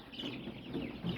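Chickens of several breeds, including Amrox, Adlerskiy, Lakenfelder and Forwerk, clucking softly at close range in short murmuring calls over a faint background.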